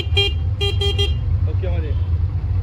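A new car's horn honks three short times in quick succession, loud and close, over a low engine idle and background voices.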